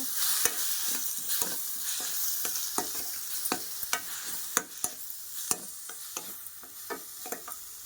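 Kaju makhana curry masala with salt and chilli powder is stirred in a hot pan, a soft sizzle under a regular series of sharp spoon clacks and scrapes against the pan.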